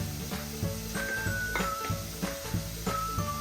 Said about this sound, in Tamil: சின்னனா வெட்டி வச்சுருக்கிற வெங்காயத்தையும் இதில் போட்டு மிக்ஸ் பண்ணிக்கொள்வோம்